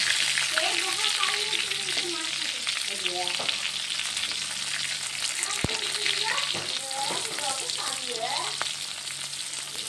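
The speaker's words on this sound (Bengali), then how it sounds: "এইভাবে পটলগুলোকে আমি লালচে করে ভেজে নেব।" Pointed gourd (potol) pieces fry in hot oil until reddish, giving a steady close sizzle and crackle throughout, with a spoon now and then stirring through the pan.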